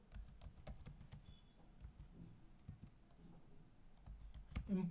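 Rapid clicking of computer keyboard keys during entry of a Google Sheets formula, steady close taps with a faint voice in the background.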